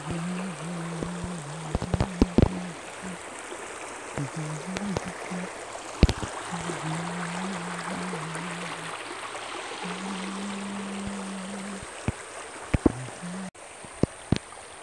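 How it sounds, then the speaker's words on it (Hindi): Steady broadband rush of the Dulung river flowing, a continuous wash of water with scattered small splashes and clicks and a low intermittent hum underneath, heard alone without voices. "यहाँ पे देखिए सिर्फ आवाज़ ही आ रहा है पानी का"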